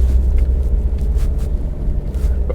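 Mercedes ML diesel SUV driving over bumpy road, with a low continuous rumble of tyres and suspension inside the cabin, steady and fairly loud, with no knocks standing out.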